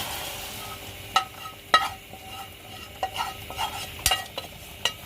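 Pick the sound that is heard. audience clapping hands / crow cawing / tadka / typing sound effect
tadka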